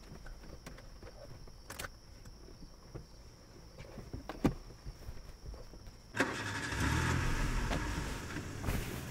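Car engine cranking and catching, then settling into a loud idle; faint crickets and light interior noises come before it, with no talking.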